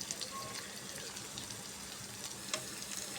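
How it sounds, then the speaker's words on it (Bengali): Onion and garlic half-fried in oil in a pan, ready for jute leaves to be added: a steady, fairly quiet sizzle and crackle runs throughout, with a few small pops and no talking. "পেঁয়াজ রসুনগুলো আধা ভাজা হয়ে গেছে, তার জন্য আমি এখন শাকগুলো দিয়ে দিব।"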